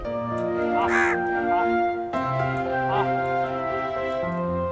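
Several crows caw repeatedly and loudly at Budha Talab in Raipur, harsh overlapping calls in quick succession, close by, with no speech.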